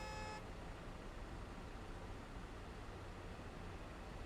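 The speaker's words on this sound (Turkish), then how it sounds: "Çal kornayı." Truck horn in the Euro Truck Simulator 2 driving game, a single short toot at the very start, then steady road and engine rumble.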